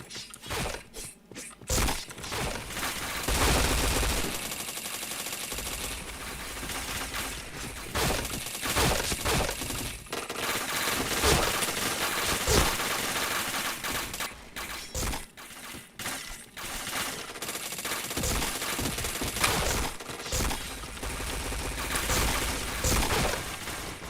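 Rapid bursts of video game gunfire crackle and clatter continuously with mechanical clicks and sharp impacts, dense and loud across the whole stretch, with brief gaps between volleys and headshot effects.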